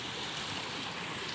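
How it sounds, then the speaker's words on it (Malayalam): Water spilling over a check dam with low flow makes a steady, full rushing roar, close and continuous with no voices. "ഇത്തിരി വെള്ളമുള്ളതുകൊണ്ട് ചാട്ടമൊക്കെ ഇത്തിരി ഉള്ളൂ."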